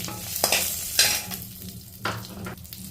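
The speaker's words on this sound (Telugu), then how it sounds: "కొంచెం నూనె వేసుకోవాలి నూనె కాగిందే ముందుగా మెంతులు వేసుకోవాలి" Fenugreek and coriander seeds frying in hot oil for drumstick leaves chutney: close sizzling with brisk stirring scrapes in several short bursts, and no one talking.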